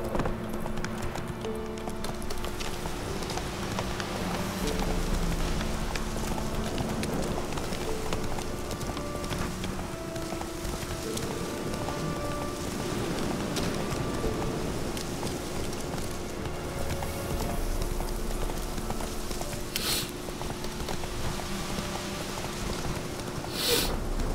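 Geralt's horse gallops in The Witcher 3: Wild Hunt, its hoofbeats a steady, continuous clip-clop for the whole stretch, with light rain-like patter behind and a few brief sharp accents near the end.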